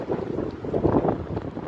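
Wind on Bear Mountain, a snowy South Dakota peak, roaring steadily and loudly against the microphone, a low rushing buffet that swells slightly midway.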